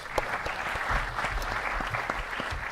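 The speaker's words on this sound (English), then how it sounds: "please give one final round of applause for our sponsors and partner organizations." An evening event audience gives a round of applause for sponsors and partner organizations, a steady patter of many clapping hands at moderate volume throughout.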